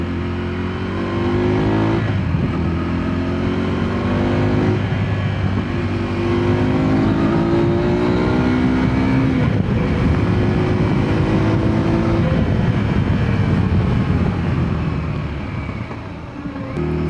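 A KTM Duke 390 motorcycle engine while riding and downshifting, a loud steady drone whose pitch falls and rises with each gear change, close and continuous, with no talk.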